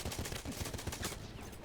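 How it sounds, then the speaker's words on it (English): Rapid gunfire and sniper shots crack repeatedly during a Battlefield 1 match on the Tsaritsyn map, a dense, continuous volley of overlapping shots with no speech. "There's people getting sniped all around me."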